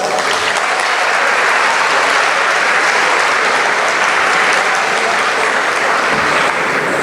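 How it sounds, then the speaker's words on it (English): Loud, dense audience applause fills a Diwali celebration hall, a steady wash of many hands clapping together without pause for about seven seconds, with no speech over it. "Please give them a big round of applause."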